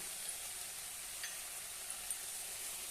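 Potato chutney with red chili powder, salt and garam masala sautéing in a pan, a faint steady sizzle with no voices.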